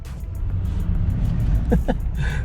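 A Jeep fitted with Black Rhino wheels pulls away in traffic, a steady low engine and road rumble with a couple of brief higher squeaks near the end.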